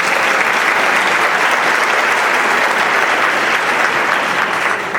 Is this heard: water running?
no